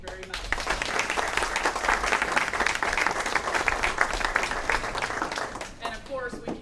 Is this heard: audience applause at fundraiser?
yes